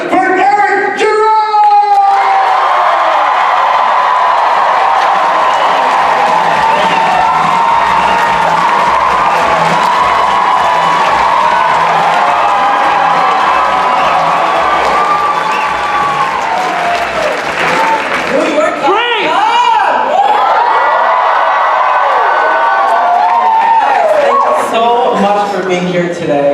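Convention crowd at a New York Comic Con 2016 panel applauding, cheering and screaming loudly and continuously, a dense roar of claps and whoops that swells again near the end, with voices shouting throughout.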